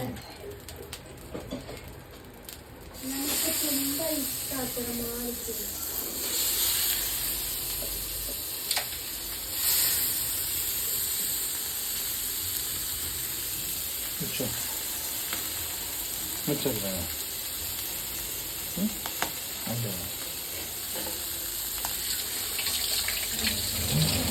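Bangda fish frying in coconut oil sizzle with a steady hiss throughout, broken by occasional pops and light clinks from the pan, while birds chirp faintly in the background.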